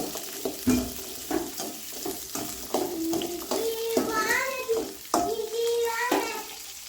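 Onions and chillies sauté in a pan for a Kongu-style potato curry. Rhythmic stirring scrapes sound over a steady sizzle, with a faint voice briefly audible in the background.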